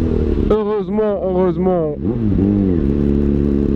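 A motorcycle engine revs in several quick bursts that climb and fall, then settles to a steady rumbling idle, loud and close, with someone speaking briefly.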